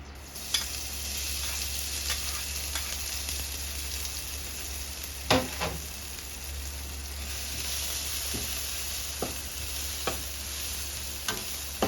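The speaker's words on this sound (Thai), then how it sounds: "จะเอามาลวนกับกระทะเนาะ" Mushrooms sizzle and crackle steadily as they stir-fry in a little oil in a hot pan, while occasional scrapes and clinks of a utensil stir them around.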